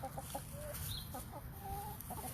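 A small flock of chickens on a veterans' urban farm cluck and murmur close by in short, irregular calls over low outdoor background noise.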